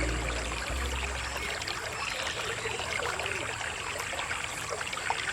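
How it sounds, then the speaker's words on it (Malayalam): An overflowing farm pond spills over with a continuous rushing trickle of water, steady and fairly close throughout with no voices. "ഇപ്പം ഇങ്ങനെ നിറഞ്ഞിട്ട് ഇങ്ങനെ കവിഞ്ഞൊഴുകുക."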